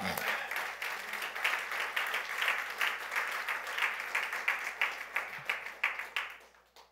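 A church congregation claps and cheers steadily during a French-language sermon, with dense, rhythmic applause sustained throughout before fading at the end.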